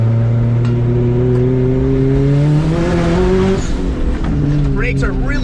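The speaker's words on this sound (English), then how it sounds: "Let's see what this thing does with a little bit of corner action." A modified Honda Civic is driven hard through a corner, its engine note droning loudly and climbing steadily before a brief dip and recovery, with faint tire noise near the end.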